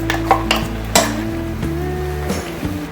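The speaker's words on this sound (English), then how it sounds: "And now I'm going to even add the coconut paste also" Coconut paste being stirred into ridge gourd milk curry in a pan, with several sharp clinks of a utensil against the pan over a steady low sizzle and scraping, close and fairly loud.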